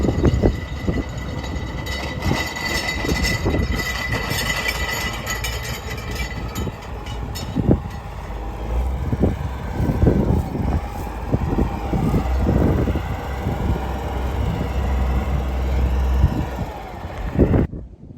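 Cummins diesel engine powering a harvesting machine during wheat and spring barley harvest, a steady, loud, close rumble that runs without pause throughout, with some heavier knocks and surges along the way.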